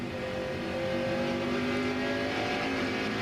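A NASCAR stock car engine, heard from an in-car camera during the 2001 New England 300, drones and builds steadily as the driver eases onto the throttle out of a corner, loud and continuous with no talk.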